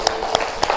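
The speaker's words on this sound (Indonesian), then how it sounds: "kita tepuk tangan untuk kita semua ya" A classroom group claps hands together in a short burst, with a few sharp, loud claps standing out over a steady, softer patter of clapping.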